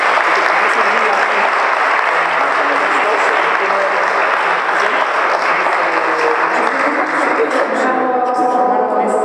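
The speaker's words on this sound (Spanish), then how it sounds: "Un aplauso." At a talk on the Zapotec ritual calendar, the audience gives a loud, sustained round of applause lasting about nine seconds, with a voice emerging near the end.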